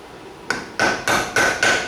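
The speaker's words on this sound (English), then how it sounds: "I just use a plain dang old flathead screwdriver and a little hammer" Four sharp metallic taps of a small hammer striking a flathead screwdriver, splitting a Banshee engine case, evenly spaced and close, each with a brief ringing tone.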